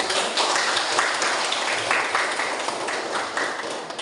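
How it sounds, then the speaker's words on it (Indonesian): A classroom of students applauds, producing a continuous, fairly loud wash of clapping that carries on evenly from start to finish. "Tepuk tangan untuk."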